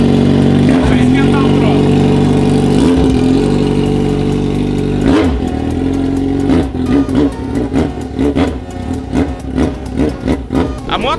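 A Yamaha XJ6 motorcycle engine warming up while still cold, a loud steady idle that gives way to a run of sharp blips and revs in the second half.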